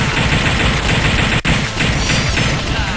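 Rapid, continuous gunfire from The House of the Dead arcade shooter, a loud, dense stream of shots with one abrupt break partway through, close and without voices.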